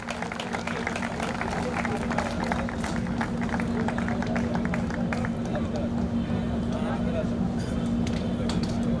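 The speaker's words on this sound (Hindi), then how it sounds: "मंच को सुशोभित कर रहे आदरणीय श्री नितेंद्र आदरणीय नितेंद्र सिंह जी सर का जोरदार तालियों से स्वागत करते हैं" Sustained applause from an audience welcoming a guest onto the stage at a national physical disability T-20 cricket championship event, a steady wash of many hands clapping over a persistent low hum and some crowd murmur.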